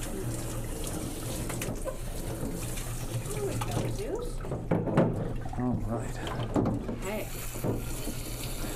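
Tap water runs steadily over a short-nosed dog in a bathtub, a continuous splashing rush with a person talking over it partway through.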